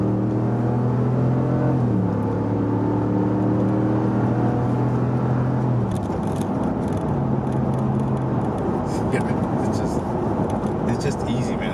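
A Dodge Ram Rebel pickup with a Hemi engine revs hard, its steady, rising drone giving way to a rougher, louder roar that fills the whole stretch up close.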